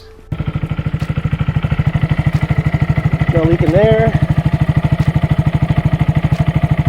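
A 2022 Honda Grom motorcycle with a cheap aftermarket exhaust idles loud and close, starting with a sharp catch and then settling into an even, rapid thumping pulse, while someone speaks briefly over it.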